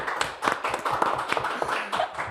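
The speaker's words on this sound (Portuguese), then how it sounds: "Vamos aplaudir o pastor, gente." Brief applause from a church audience, a short burst of scattered claps that sounds light and close.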